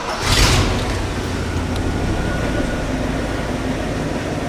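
An old tow truck engine roughly forty years old, freshly tuned with a new coil, HEI distributor, rotor and plug wires, turns over and settles into a steady, loud idle that drones on without pause.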